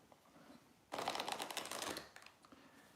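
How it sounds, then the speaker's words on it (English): Tarot cards being shuffled by hand: a quiet lead-in, then about a second of dense, close riffling and slapping, followed by a few softer taps as the deck settles. "I'm going to shuffle"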